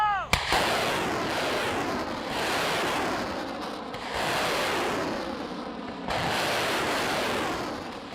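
Ukrainian army long-range rockets launching one after another, each firing a roaring rushing blast that swells and sustains for about two seconds before the next, loud and fairly close, with a sharp crack at the start.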